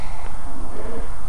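Swift pigeons with short beaks and round heads in a coop, a soft continuous murmur of cooing close by, no talk.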